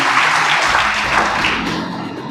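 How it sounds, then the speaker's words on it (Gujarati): Enthusiastic applause from an audience at a motivational talk in Bodeli, a thick wash of many hands clapping, steady and close, slowly tapering off. "મેડમ માટે આપણે એક જોરદાર તાળી પાડવી જોઈએ."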